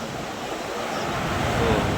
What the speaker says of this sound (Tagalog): Lalaki ng alon natin, oh.